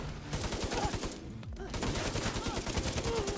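Rapid gunfire from a gun in Tom Clancy's The Division 2, a dense rattling string of shots fired in quick succession with a short gap midway, close and fairly loud.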